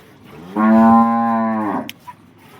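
A single loud, drawn-out moo from a cow on a Banaskantha dairy farm, rising and holding for over a second before trailing off, heard alone with no talk.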